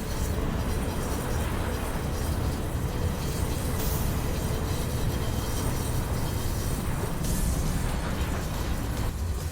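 A heavy train running at speed during a chase, a loud, dense and continuous rumble with steady wheel and track roar throughout and no voices.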